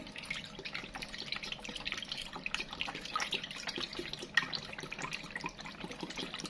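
Fresh unsweetened milk is poured into creamy milk tea, making a soft continuous liquid trickle and splash with faint drip-like patter, close and fairly quiet.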